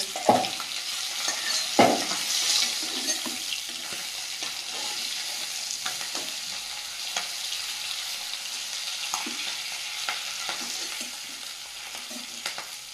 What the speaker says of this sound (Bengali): এই মাছগুলো ভাজা হয়ে গেছে তুলে নেব